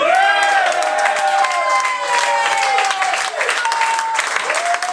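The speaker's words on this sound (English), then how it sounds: "Give him a round of applause." An audience applauds after a performance at a live show, with dense, steady clapping mixed with cheering and whoops throughout, fairly loud and close.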